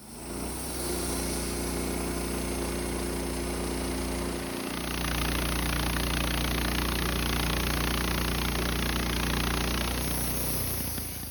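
Woodmizer LT15 sawmill cutting a knotty pine log, its engine droning steadily and growing louder and harsher as the blade bites into the wood, then easing off near the end.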